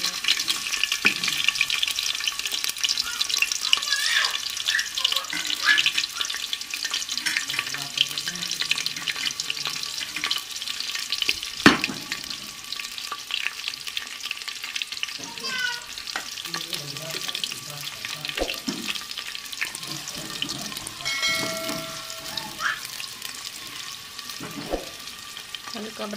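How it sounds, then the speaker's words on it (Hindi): Sliced onions and green chillies frying in hot ghee on a stovetop, a steady close sizzle and crackle with occasional stirring clinks and scrapes over about half a minute, no speech. "घी गर्म हो गया है। अब इसमें ये प्याज डालेंगे।"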